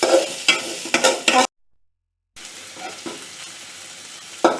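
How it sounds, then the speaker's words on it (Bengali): Chilli, turmeric and coriander powder frying in mustard oil for a mutton curry, with loud rhythmic scraping strokes of a spoon over a hissing sizzle, broken by a brief silence before softer stirring resumes. "মরিচের গুঁড়ো, হলুদ আর ধনিয়ার গুঁড়ো সব একসাথে দিয়ে এখন মিক্স"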